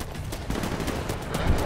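Dense gunfire from the first-person shooter Titanfall, with overlapping rifle and machine-gun bursts crackling continuously at mid distance, a steady wall of shots with no talk over it.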